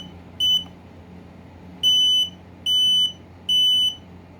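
FireX i4618AC smoke alarm under test sounds four loud, piercing electronic beeps, a short one then three longer half-second blasts evenly spaced, over a low hum of room noise.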